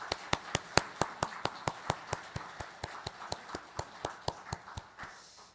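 A church congregation claps together in a steady, even rhythm of about four claps a second, faint and a little distant, with no voices over it.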